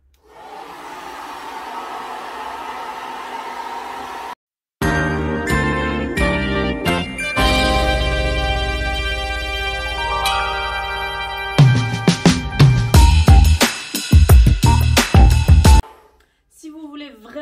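A hair dryer fitted with a diffuser blows steadily while drying hair, a loud continuous whoosh that gives way to a light jingly musical passage with chiming tones.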